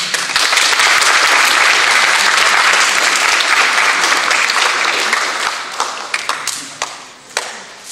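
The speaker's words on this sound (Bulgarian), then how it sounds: "така че аплодисменти за тях" A crowd applauds at the Robotics Days 2024 award ceremony at a technical university: loud, dense clapping fills the room, then thins into a few scattered claps and taps at the end.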